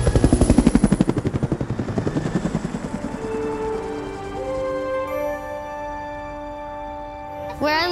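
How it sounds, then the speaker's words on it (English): A helicopter carrying a large screen beneath it passes overhead, its loud rhythmic rotor chop fading as it moves off, leaving a steady whining turbine tone and a brief final rumble. "We're going to fly it through the sky underneath a helicopter."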